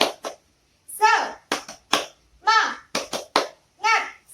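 Preschool children chant and clap a rhythmic spirit cheer in a classroom, with sharp claps and voices in short, evenly spaced bursts and brief pauses between them.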